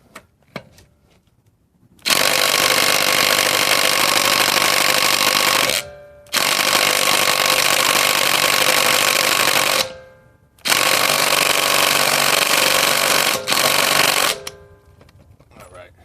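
A cordless impact driver runs in reverse to remove a car's lug nut. It gives three long, loud, continuous hammering bursts of about four seconds each, separated by brief pauses, with a faint whir trailing after the last.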